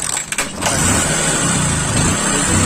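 A Bajaj Discover 135 motorcycle being kick-started, with a hard kick, where the engine catches after a few uneven bursts and then settles into a steady, loud, close running drone.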